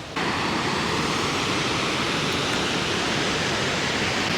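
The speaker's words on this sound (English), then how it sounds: "You can hear the waterfalls just flowing." Waterfalls flowing among icy, snow-covered mountains in the Victorian High Country make a steady, dense roar of rushing water that fills the whole stretch without a break.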